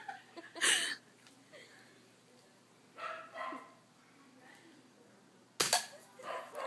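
A BB gun fires at a hollow chocolate bunny, giving a few sharp, loud cracks spaced several seconds apart with quieter rustling between them.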